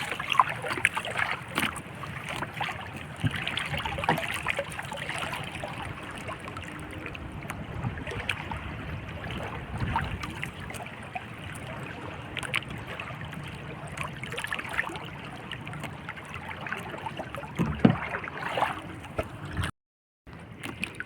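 A small boat is paddled across open water in gusty, strong wind, with continuous splashing and gurgling from the paddle strokes under buffeting wind noise, close by and moderately loud.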